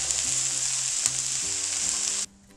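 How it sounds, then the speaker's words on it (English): Broccoli, onions and garlic sizzling steadily in a pan for a stir fry, a continuous bright hiss with faint background tones, cutting off abruptly near the end. "So while my broccoli and onions and garlic are cooking"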